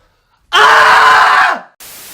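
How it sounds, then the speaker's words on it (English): A man lets out one loud, close, sustained scream lasting about a second that trails off, followed by quiet hiss. "I'm gonna do the Scream."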